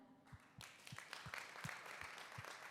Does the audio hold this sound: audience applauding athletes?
yes